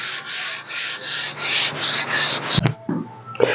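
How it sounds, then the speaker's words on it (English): Close, steady rasping strokes of 120-grit sandpaper rubbing over wood in a repeating back-and-forth rhythm, ending with a few knocks. "I was sanding this at 120"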